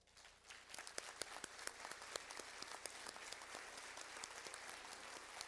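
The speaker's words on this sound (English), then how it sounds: "we want to give you a round of applause" A room of attendees at a volunteer leadership summit at Cal State University San Bernardino gives the planning committee and production staff a steady round of applause, dense, sustained clapping of moderate loudness with no talking over it.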